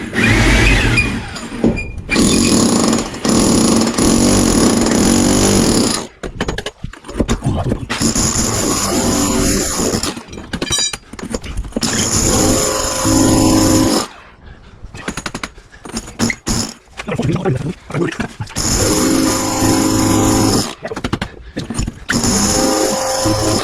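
A power drill runs in repeated loud bursts in an abandoned apartment, whining and rattling up close, stopping and restarting with short pauses and some talking in between.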